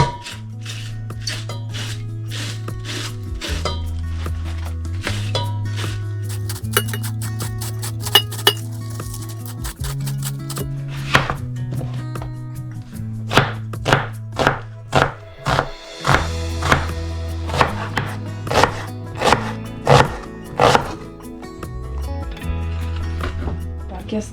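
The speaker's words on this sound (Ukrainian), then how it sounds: "Я капусту завжди люблю шинкувати з цією штукою." Cabbage is shredded on a hand slicer in a quick run of rhythmic scraping strokes, with clinking dishes and a voice nearby.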